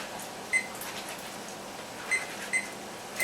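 A microwave oven hums steadily while cooking pepper, with a few short electronic beeps over the faint, even drone.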